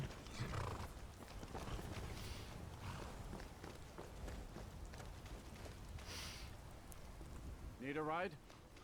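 A horse in Skyrim clip-clops along with hooves thudding steadily over a low ambient bed, then lets out a loud, wavering neigh near the end, with voices talking in the background.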